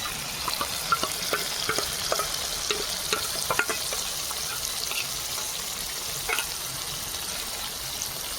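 A spice mix of chili, turmeric, coriander and cumin powder fries in a pan with ginger paste, a steady close sizzle broken by frequent scraping taps of a stirring spoon.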